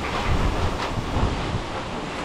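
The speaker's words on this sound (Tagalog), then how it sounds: "Ganito rin yung hangin." Strong wind buffets a microphone outdoors on a cold, blustery day, a dense continuous roar with gusty surges and no speech.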